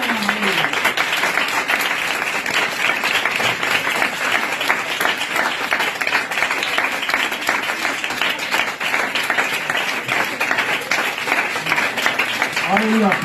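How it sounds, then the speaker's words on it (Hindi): A church congregation gives loud, sustained applause, with dense clapping that holds at an even level for over twelve seconds and some voices mixed in. "उस जिंदा खुदा की तारीफ में जोरदार तालियां दें"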